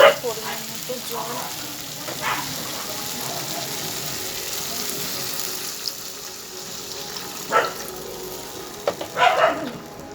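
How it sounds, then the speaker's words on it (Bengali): Spice paste frying in oil sizzles in a steady, moderate hiss, with a few short clatters and splashy bursts as water is poured in near the end. "মশলা থেকে তেল ছেড়ে দিয়েছে, দিয়ে দেবো পরিমাণ মতো জল"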